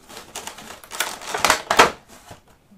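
Crinkly plastic packaging around a promo Pokémon card being pulled open, giving a burst of crackling and rustling close to the mic that swells and then fades out.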